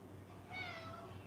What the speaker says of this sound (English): Hear that cat meowing?